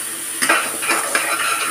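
Spice masala with salt, turmeric and vegetable masala being stirred and fried in a pan, with a steady soft sizzle broken by scraping strokes and clinks of the spoon against the metal.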